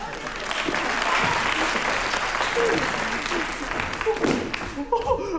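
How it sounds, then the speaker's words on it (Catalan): An audience at a stage scene bursts into sustained applause, a dense wash of clapping that stays loud for several seconds before thinning into scattered claps as voices rise underneath. "Un aplaudiment pels dos amors que tenim a les tres."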